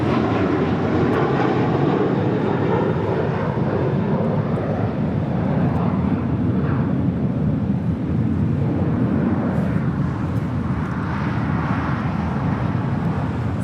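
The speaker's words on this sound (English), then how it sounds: "That is United Airlines flight 547 coming in from San Jose del Cabo. It's an A320." A United Airlines A320 jet roars steadily on arrival at LAX, a loud, sustained broadband engine rumble that holds unbroken throughout with no voices over it.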